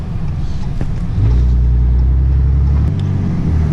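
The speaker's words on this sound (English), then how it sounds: "I wasn't sure about running the 5-inch straight pipe exhaust from the turbo back." A Ram diesel pickup with a 5-inch turbo-back straight pipe exhaust idles with a deep, loud rumble that jumps to a heavier drone a second in as it revs, close and steady with no talking.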